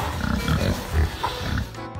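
Pig walking in snowy weather, grunting and snuffling in short, uneven oinks close by over a muffled background.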